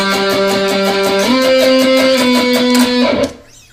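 Electric guitar playing the pre-chorus octave runs, loud and alone, with sustained octave notes stepping in a few shifts before cutting off near the end.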